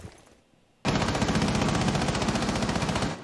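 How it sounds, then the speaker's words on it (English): Rapid automatic gunfire erupts in a Rainbow Six Siege-style shooter match on the Chalet map, a loud continuous burst of rattling shots after a short quiet moment. "Where's that gunfire?"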